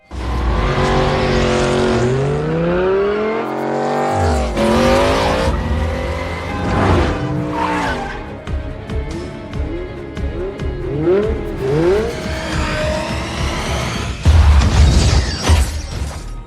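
A car chase in an action film: revving engines, passing cars, screeching tires and skids, and shattering crashes overlap loudly with dramatic scoring throughout.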